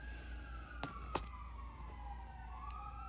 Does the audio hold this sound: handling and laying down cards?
no